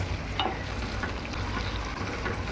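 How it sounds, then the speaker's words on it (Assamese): Masala with curd being stirred in a pan for a paneer dish, with a steady close sizzle and scraping that runs throughout and no voices. "এতিয়া ধুনীয়াকৈ মছলাখিনি মিলাই দিব।"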